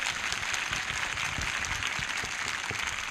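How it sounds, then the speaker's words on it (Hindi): A church congregation at a Palm Sunday prayer meeting claps steadily in thanks, a continuous, moderately distant wash of applause with no talk over it. "जिनको लग रहा है जीत रखा है वो ताली बजाकर धन्यवाद कर रहे हैं"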